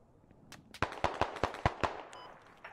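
Rapid rifle fire in the military shooter game Squad, a quick run of about eight sharp cracks close by, unevenly spaced, followed by a fainter distant shot.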